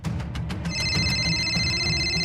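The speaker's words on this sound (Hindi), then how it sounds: "हमारा फोन, घंटी तो बज रही है।" A mobile phone ringing somewhere nearby in a home, repeating a steady electronic ringtone with sustained high tones throughout, over a background of household noise.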